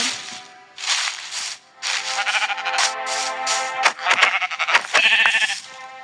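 Minecraft sheep bleat over and over in short, overlapping bursts, loud and close, with a few clicks and rattles between them.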